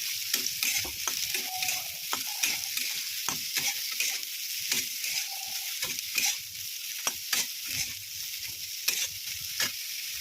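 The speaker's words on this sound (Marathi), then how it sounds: "ती आपण कमी तेलामध्ये तळून घेणार आहोत." Soybean chunks frying in a little oil, a steady sizzle broken by frequent sharp scrapes and knocks of a spoon stirring in the pan.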